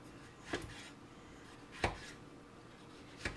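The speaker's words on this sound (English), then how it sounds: "Just chopping everything up here." A knife chops through fresh vegetables on a cutting board for a vegan stew, making three sharp, evenly spaced thuds about a second and a half apart, with quiet room noise in between.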